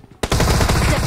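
Automatic gunfire from a weapon in the mobile battle royale game BGMI, a sudden loud burst of rapid, evenly spaced shots that starts after a brief quiet moment and keeps firing without pause.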